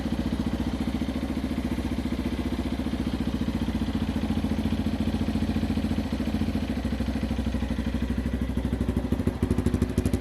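A 2020 Yamaha TTR 230 dirt bike engine with a stock exhaust runs at a steady, throbbing idle, loud and close, with a fast rhythmic chug and no one talking.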